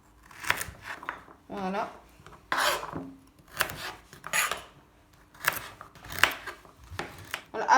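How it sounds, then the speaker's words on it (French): Small carrots being chopped into tiny pieces on a board for baby food, a run of crisp knife strokes in short bursts, close and moderately loud, with someone speaking briefly in French between cuts. "Après avoir coupé mes petites carottes, je vais couper mes courgettes."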